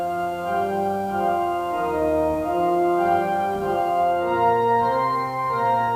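A slow hymn played with its melody carried low in the bass, sustained chords ringing steadily and resonantly throughout with no pauses or voices.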